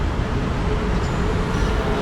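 A train passes close by, a steady, loud broadband rumble and rush of wheels that fills the whole moment with no voices.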